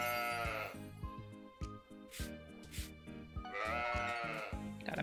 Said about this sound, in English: Gotta milk the goat.